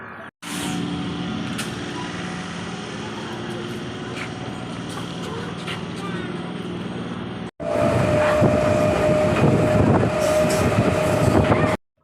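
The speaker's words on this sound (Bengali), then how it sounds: "শক্তিগড় স্টেশনে ট্রেনটা অনেকক্ষণ দাঁড়ালো" A loud, continuous rumble of a moving train heard from inside, wheels clattering steadily; the noise briefly cuts out and returns heavier and rougher.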